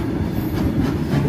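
A train rumbles past near the Hisua railway line, a loud, continuous low roar with faint rhythmic wheel noise and no speech.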